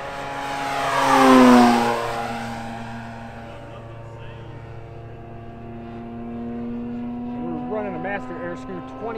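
A large 2150mm-wingspan Tiger Moth RC model plane with a 20x8 wood prop drones at full throttle, a loud steady buzzing engine note that swells as it passes close overhead, then fades into the distance and rises again.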